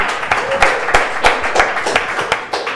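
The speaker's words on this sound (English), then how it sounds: "Round of applause, guys." A small audience at a robotics talk gives a brief, sparse round of applause, with a few distinct, rhythmic claps standing out near and clear.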